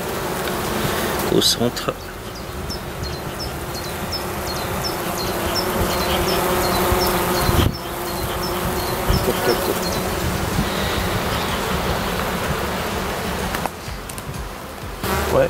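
A colony of dark honey bees buzzes steadily at an opened hive during a super check, a close, dense hum with a few handling knocks and a brief voice.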